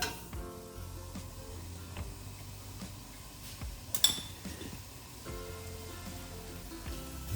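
Chopped onion frying in about 30 grams of ordinary sunflower oil in a pan, a steady soft sizzle running throughout with occasional clinks and scrapes of a utensil stirring, no talk.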